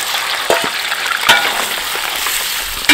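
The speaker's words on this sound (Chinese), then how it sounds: "鸡油已经炼出来了，然后把鸡肉放进来" Chicken pieces fry in rendered chicken fat with a loud, steady, close sizzle, broken by a few sharp crackles and stirring clinks, with no talk.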